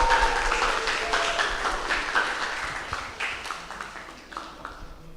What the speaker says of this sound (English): please give the biggest applause to all the participants today